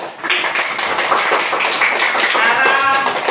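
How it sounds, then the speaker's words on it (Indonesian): Dense applause from a classroom of students clapping for a group, steady and close throughout, with some voices mixed in. "tepuk tangan buat kelompok 1 dan kalian"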